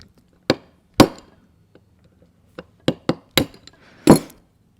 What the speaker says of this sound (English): I'm taking a brass hammer in here, and I'm just pounding this out in between the planetaries.